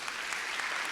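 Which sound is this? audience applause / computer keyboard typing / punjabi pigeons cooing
audience applause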